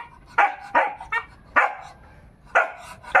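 A dog barks repeatedly in short, sharp bursts, about six barks spaced irregularly, close by and fairly loud, with no talking.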